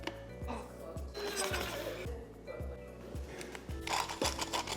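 Whole dried bay leaves are ground for a turkey dry brine, giving a steady mechanical whirring grinder sound with rhythmic pulses and scraping, close and fairly quiet.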